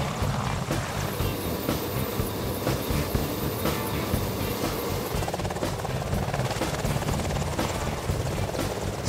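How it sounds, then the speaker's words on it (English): A helicopter hovering: a loud, steady drone with fast rotor chop, close and continuous throughout, no voices. "A helicopter can lift straight up and hang in the air just like a hummingbird."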